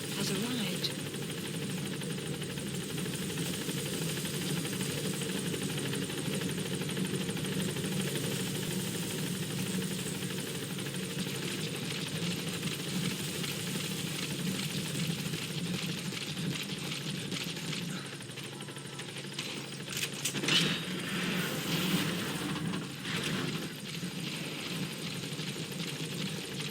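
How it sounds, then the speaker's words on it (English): A support helicopter waits at the landing zone in Metal Gear Solid V, its engine idling in a long, even drone with a faint rotor thrum, some brief clattering bursts near the end and speech in the background. "Support helicopter has arrived."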